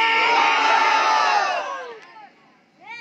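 A large crowd at a Bangla Islamic sermon roars the takbir in unison, a loud sustained shout that fades out, followed by a single voice starting up.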